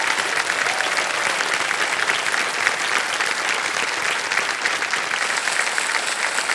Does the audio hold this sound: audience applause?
yes